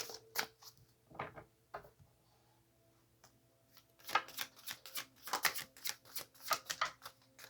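Tarot-style message cards shuffled and drawn from a deck: soft papery riffles and flicks, a few scattered taps early, then a denser burst of quick card slaps and shuffles in the second half, close and quiet.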